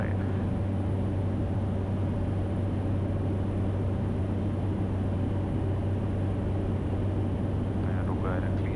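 Cessna Caravan turboprop engine at takeoff power during the climb-out, a loud steady drone with a strong low hum filling the cabin throughout, while a pilot talks over it.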